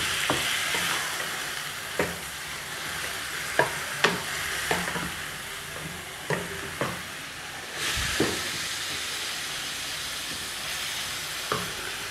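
Chicken breasts fry in a pan over browned onion and garlic, a steady sizzle with repeated sharp stirring clacks and scrapes of a utensil at irregular intervals.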